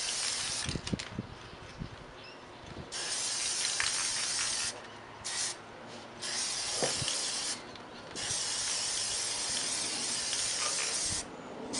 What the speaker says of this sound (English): we're going to flip them and spray the other side with an even coat as well